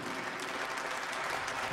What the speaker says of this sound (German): bitte ich noch einmal um einen großen und kräftigen Applaus für